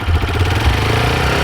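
A beginner's motorcycle engine, in neutral, rises as the throttle is rolled on slightly: a close, loud, throbbing mid-pitched rev held steady over a short stretch, with no voices.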